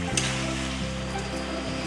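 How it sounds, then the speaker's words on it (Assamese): Hot oil sizzles softly and steadily in a pan of pork cooking with lai sak greens, a quiet continuous crackle over a low hum. "ধুনীয়াকৈ তেল উতলি আছে"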